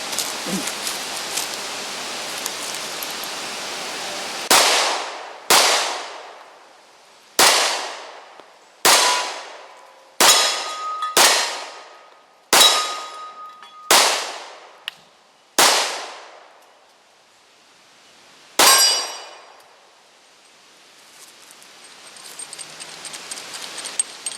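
Glock 29 10mm pistol firing about ten loud, sharp shots at irregular intervals, each followed by a short decaying echo, with rain hissing in the background outdoors.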